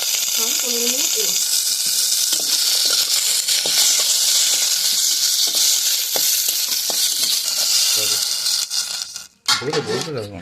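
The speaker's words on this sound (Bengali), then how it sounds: "প্রথমে আমি চিকেনটা হালকা নেড়ে সিদ্ধ বসিয়ে দেবো 20 মিনিটের জন্য" Chicken being stirred in a pot before boiling for Darjeeling-style chicken momo soup, a steady loud sizzle and hiss with occasional scraping clinks, someone talking over it.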